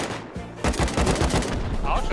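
An automatic turret in the survival game Rust fires rapid bursts of gunfire that rattle on steadily and loudly through most of the moment, with players talking faintly underneath.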